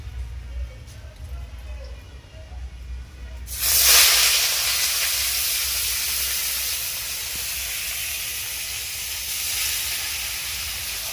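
Salted, turmeric-coated mushrooms land in hot oil in a pan, and a sudden loud hiss of steam and sizzle bursts up, then eases into a steady fry.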